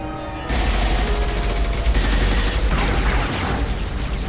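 Dense, loud gunfire and booming blasts erupt in a Mass Effect 2 battle after a quiet moment, a continuous roaring barrage of rapid shots with no speech.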